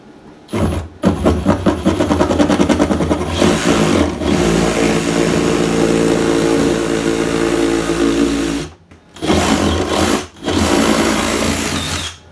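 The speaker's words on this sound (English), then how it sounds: "lacking any proper tool that will get me close, we'll try the Sawzall" A Sawzall reciprocating saw cuts with a loud, close, continuous buzzing rattle, broken by a few short pauses before it restarts.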